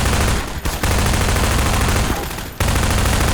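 Dense, continuous gunfire comes from the video game MINERVA: Metastasis, loud and close, with rapid overlapping shots. There are two brief dips in the barrage. No voices are heard.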